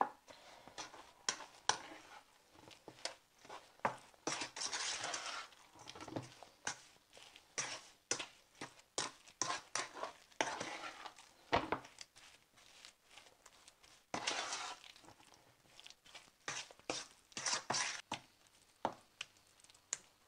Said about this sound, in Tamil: கட்டி ஆகாமல் தொடர்ந்து நம்ம கலரிட்டே இருக்கணும்